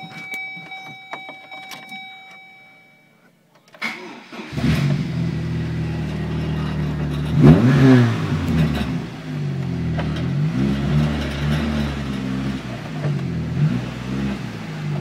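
After a quiet stretch with faint beeps, a figure 8 demolition derby car's engine cranks and starts, then revs up and settles into a steady idle with more revs.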